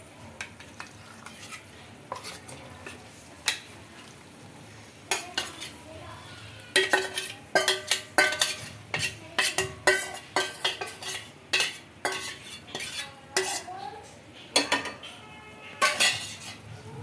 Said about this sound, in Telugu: ఇప్పుడు మ్యాగ్నేట్ చేసి పెట్టుకున్న చికెన్ అయితే వేస్తున్నాను